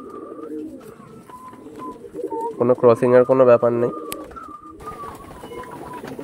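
Lambadi pigeons, a newly adult mated pair, coo in a short burst of repeated low calls close by, with someone talking before and after.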